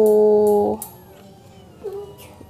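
A kitten gives one loud, drawn-out meow at the start, followed by a fainter short mew a second later.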